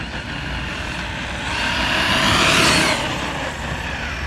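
An Arrma Nero 6S BLX RC car on 6S power runs flat out, its high-pitched motor whine steady and loud, swelling to a peak as it passes close by before easing off again.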